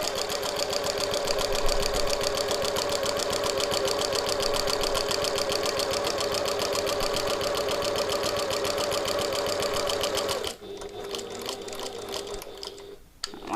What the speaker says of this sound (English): we're going to top stitch on the lining top at an 1/8 of an inch, 3mm away from that seam